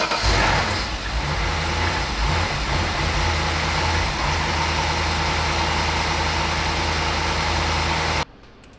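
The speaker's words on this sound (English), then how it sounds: "let the fuel system prime a few times, and then we'll try and start it" A salvaged BMW E60 engine runs steadily after fuel priming, a loud, continuous low mechanical drone with idle-like hum, close by, cutting off abruptly near the end.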